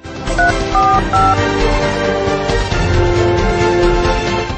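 A phone keypad beeps through a short run of dialing tones, loud and close, as someone calls for an ambulance, with a musical background underneath.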